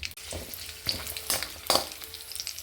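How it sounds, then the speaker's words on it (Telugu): Almonds and cashews fry in a pan for ravva laddu, a steady close sizzle broken by several sharp scrapes and clatters of stirring. "బాదం పప్పు, జీడిపప్పు బాగా ఫ్రై చేసుకోవాలి"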